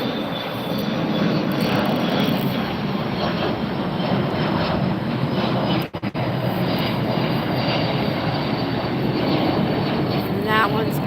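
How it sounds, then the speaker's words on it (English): A Delta Air Lines Airbus A350 takes off at night at LAX, giving a loud, continuous broadband jet roar that holds steady for about eleven seconds with a brief dropout midway. "We got another takeoff right here."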